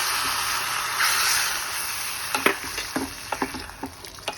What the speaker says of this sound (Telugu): ఈ పోపు ఇలా కలిపేసుకోవాలి